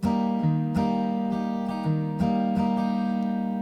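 Acoustic guitar picking out a short chord pattern, a low bass note alternating with higher plucked strings in a steady rhythm, close and clear with no voices.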